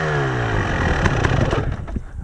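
A KTM 300 TPI two-stroke motorcycle engine bogs and fails to rev out, a loud, rough, sputtering drone that falters over a couple of seconds with no talking.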